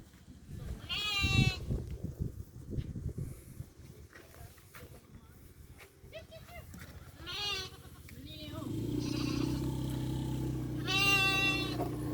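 A sheep gives two wavering bleats, one near the start and one near the end, with people talking in between and a low steady rumble underneath.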